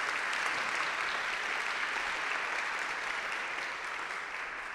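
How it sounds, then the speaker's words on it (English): An audience at a school assembly claps steadily in a dense, even round of applause that holds for several seconds and fades slightly at the end, with no talking. "please give them a big round of applause"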